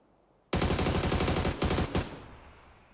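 Loud, rapid burst of automatic gunfire in PUBG on console, on the Erangel map, firing continuously for about a second and a half before tapering off, followed by a last brief shot.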